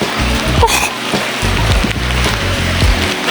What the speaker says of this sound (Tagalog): Hindi naman ganun kalakasan yung ambon lang pero yung hangin pabugso-bugso